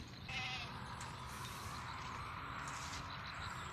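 A wavering animal bleat rises early over steady outdoor background noise, then fades into a continuous rural ambience.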